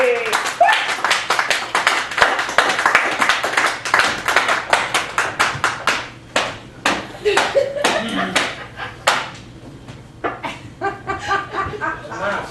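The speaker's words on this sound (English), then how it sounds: "please, ladies and gentlemen, give a big round of applause for Tom Roby!" Dense clapping from an audience at a poetry open mic, loud and sustained, thinning into scattered claps with a few chuckles near the end.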